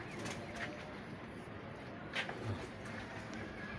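Pigeons, fancy teddy breed with beautiful necks, coo softly at low pitch amid steady background noise, with a faint flutter and a few brief calls scattered through.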